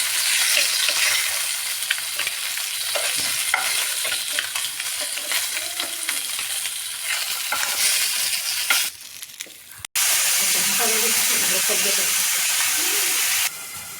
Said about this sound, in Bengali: মাছগুলো হালকা করে ভেজে তুলে দিচ্ছি